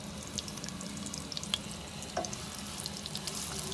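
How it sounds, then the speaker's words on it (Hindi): White cumin and sliced onion fry in hot oil for a ridge gourd sabzi, a soft, steady background crackle with a few faint clicks from a utensil and no voices. "सफ़ेद ज़ीरा और प्याज को फ्राई करते हैं।"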